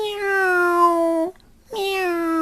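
A child imitates a cat, giving two drawn-out, tonal meows separated by a brief pause, loud and close.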